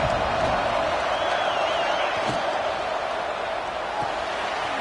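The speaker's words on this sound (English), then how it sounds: "Crowd getting this defense whipped up on 3rd down." A football stadium crowd roars steadily as the defense faces third down in an Ohio State versus Ole Miss game, a dense sustained wall of cheering with a whistle-like tone drifting through and no distinct pauses.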